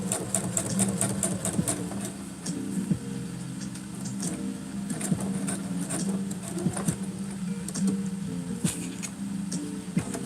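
Domestic sewing machine running steadily with a long stitch length, about 4.5, sewing understitching near a fabric edge for a cosplay garment, a continuous close whirring hum with rapid rhythmic needle clatter throughout.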